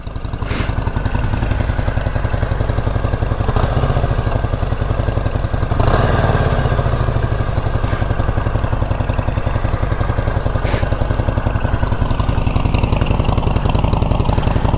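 A Harley Davidson Forty Eight motorcycle fitted with a turbo exhaust whistle idles steadily and loudly, a close rhythmic low engine throb with a thin whistle layered on top and a few brief clanks.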